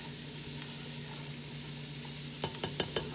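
Food cooking down in a pan for shrimp pasta simmers with a steady low sizzle, then a few sharp utensil clacks and stirring knocks come close together near the end.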